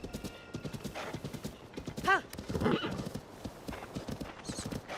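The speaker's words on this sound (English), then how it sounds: "Yay, I have a horsey again." A horse's hooves clip-clop steadily in Zelda: Tears of the Kingdom, with a short whinny in the middle and a voice speaking faintly underneath.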